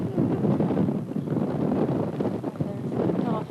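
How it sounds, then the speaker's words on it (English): Strong wind buffeting the microphone in a constant rumbling roar, loud and unbroken throughout. "It's a very windy day out here."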